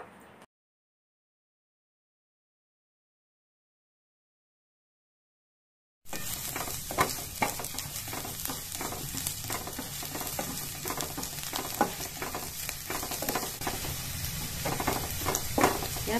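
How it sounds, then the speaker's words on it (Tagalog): Garlic frying in hot oil in a pan, a close crackling sizzle with small pops and occasional stirring that starts abruptly after several seconds of silence and continues steadily. "Lagyan natin ng mantika. Lagyan natin itong bawang. Igasa lang natin itong bawang."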